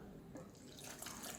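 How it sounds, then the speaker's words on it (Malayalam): Water rinsed from a mixer jar is poured into a cooking pan for kappa erissery, giving a brief, close, soft splashing trickle that builds toward the end. "ഈ മിക്സറുടെ ജാറിൽ കുറച്ച് വെള്ളം ഒഴിച്ചിട്ട് അതുകൂടി ഇതിലോട്ട് ഒഴിച്ചു കൊടുക്കാം"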